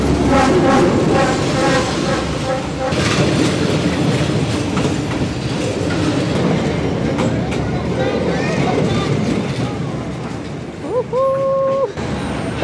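A train rumbles past loudly and close in Hanoi, Vietnam, with rattling wheels and clatter throughout, ending with a brief metallic squeal.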